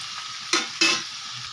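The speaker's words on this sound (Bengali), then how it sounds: "এবার এটাকে আমি নাড়াচাড়া করব, একটু ভেজে নেব" Pointed gourd slices being stirred and fried in a pan, a steady close sizzle cut by two sharp spatula scrapes about a third of a second apart, no voices.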